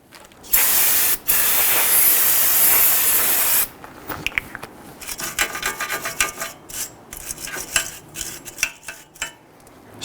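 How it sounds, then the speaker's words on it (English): Aerosol solvent sprays in a long, loud, steady hiss while a 2011-2019 Ford Explorer front hub face is cleaned during a brake job, with a brief pause, followed by quieter scraping and wiping sounds up close. "You can use some spray solvent if you have it to go ahead and clean that up"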